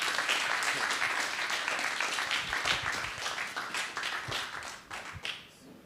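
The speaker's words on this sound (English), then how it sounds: "But another round of applause for Ida." Audience applause at the close of a talk at a financial freedom conference, a dense, steady wash of many hands clapping that thins and fades toward the end, with no talking over it.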